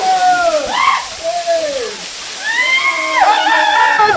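Jalagamparai waterfall at Yelagiri, with people bathing: steady rushing water under loud, rising and falling shouts and calls of bathers close by.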